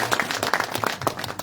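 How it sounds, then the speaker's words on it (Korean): Applause from an audience at a community education talk event in Korea, a dense steady patter of many hands clapping throughout, fairly loud and close. "뜨거운 박수 부탁드립니다"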